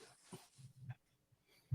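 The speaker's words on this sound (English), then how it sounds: "that's my dog" A dog makes soft, faint whimpering and snuffling noises in a few short bursts, close by and quiet, with no one speaking.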